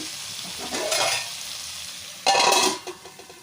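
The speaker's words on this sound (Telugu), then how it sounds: "మంటని హై ఫ్లేమ్లో అయితే పెట్టేసుకొని మంచిగా కలుపుకొని ఒక ఫైవ్ మినిట్స్ వరకు అయితే మూత పెట్టుకొని హై ఫ్లేమ్లోనే అయితే ఉంచుకోవాలి" Tomato egg curry sizzles hard on high flame in a pan, with two louder bursts of stirring and scraping rising over the steady frying hiss, close and without talk.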